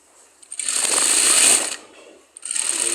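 A tailor's sewing machine stitches the side seam of a kameez in two close bursts of rapid, buzzing whir, the first longer, separated by a brief pause.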